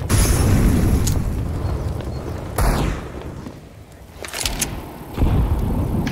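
In the video game CS:GO, on the Inferno map, a grenade blows up, a deep booming burst among other heavy thuds and bangs in a busy, loud in-game firefight soundscape.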